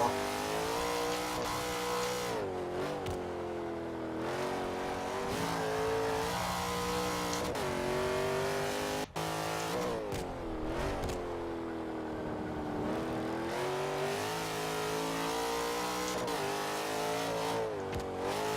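A tuned race car in a driving video game revs hard through corners, its pitch rising and falling with repeated throttle lifts and re-acceleration, held at a steady, fairly loud level with no voices over it.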